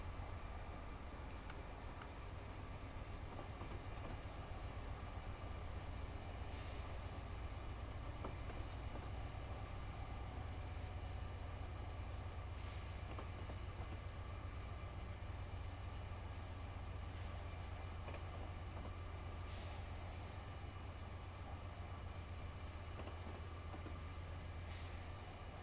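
Steady rumble and rolling clatter of a train running on rails past a station, continuous and fairly loud throughout with no talk.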